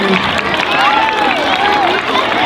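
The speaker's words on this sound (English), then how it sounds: "Give everybody a round of applause" Applause and cheering from a crowd of children and parents at a school awards gathering, steady clapping mixed with excited voices and chatter throughout, with one high voice rising above the rest.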